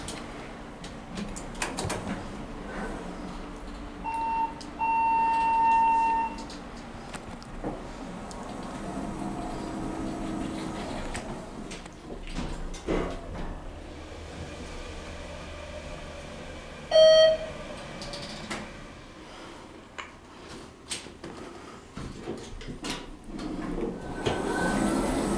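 A ThyssenKrupp hydraulic elevator at Gallatin Valley hums and rumbles steadily as it travels, with a sliding-door rattle, a couple of chime beeps and mechanical clunks, heard close inside the cab with no talk.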